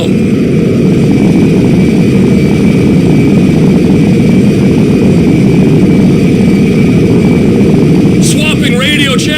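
Cargo jet landing in GTA V, a loud steady engine roar with broadband rumble throughout, and a brief voice cutting in near the end.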